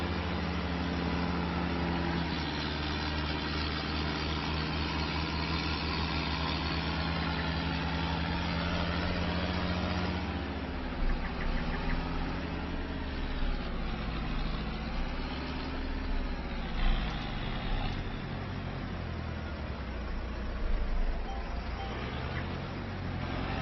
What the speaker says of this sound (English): old tractor doing a good job so far.